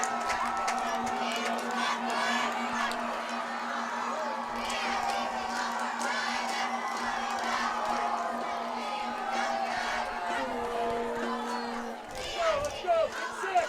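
Crowd noise at a high school football game on a 3rd-and-15 play, a steady wash of cheering and shouting from the stands with whoops and voices throughout, loud and sustained before dipping briefly near the end.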